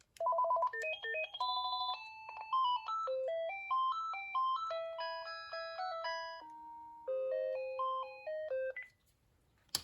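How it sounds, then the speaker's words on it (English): A cordless phone plays a run of electronic ringer melodies, bright beeping notes stepping up and down in quick patterns, clear and close, then stops. "the classic set of ringer tones on here."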